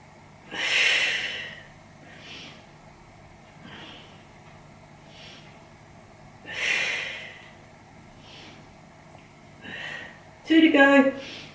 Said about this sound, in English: Breathe in and breathe out.